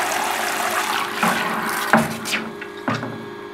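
Water gushes steadily from a boiler's heating coil as it is flushed during descaling, a continuous splashing flow with a few louder surges and knocks, heard alone without talk.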